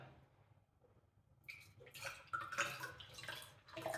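Garlic-infused water is poured through a strainer, starting with quiet drips and then turning into a trickling splash of liquid against a container that grows steadier and louder.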